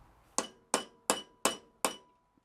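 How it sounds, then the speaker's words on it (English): A hammer strikes metal held on the small anvil of a bench vise, five evenly spaced, sharp ringing blows in a row that sound close and clear in a quiet shop. "I hammer it flat"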